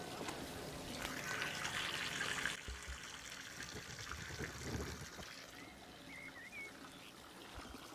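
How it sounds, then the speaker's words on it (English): Gentle trickling water in the Boboli Gardens in Florence, a soft continuous outdoor murmur with faint ambient background, quiet and steady throughout. "It's the water."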